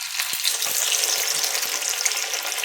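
Rice flour coriander vadi deep frying in hot oil, a loud, continuous bubbling sizzle heard close up, with a few soft low taps underneath.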